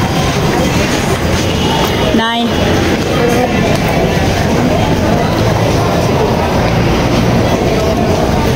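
Riding inside a Manila LRT light rail train, a constant loud rumble of wheels and cabin noise fills the whole stretch, with one short squeal of rail or brakes partway through.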